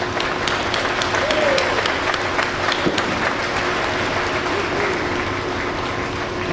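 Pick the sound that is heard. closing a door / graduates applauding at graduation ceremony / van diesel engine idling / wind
graduates applauding at graduation ceremony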